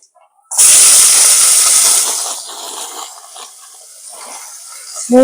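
Onions tipped into a hot pan for Kannada-style tomato bath burst into a loud, bright sizzle that hisses strongly for about two seconds, then settles into a softer, steady frying crackle.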